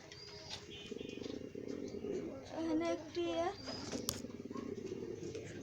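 Pigeons coo at a pigeon farm, a few distinct throaty coos rising midway above a steady low background rumble, with faint chatter and clicks around them.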